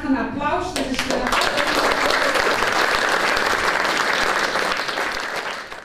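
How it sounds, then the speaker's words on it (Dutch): An audience at the launch of an SOS alarm app in Nieuwspoort, The Hague, breaks into sustained applause right after a speaker's voice, the clapping dense and even for several seconds before tapering off. "Dus dan graag een applaus."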